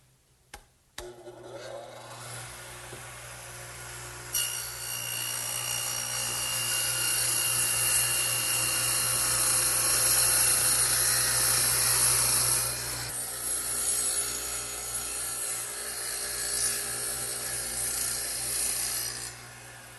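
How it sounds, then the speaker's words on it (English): A radial arm saw cuts a groove about a quarter inch deep and three quarters of an inch wide in wood for a workbench shelf, a loud steady whine and rasp running for about twelve seconds after a brief start-up. "I've set the radial arm up to do just that"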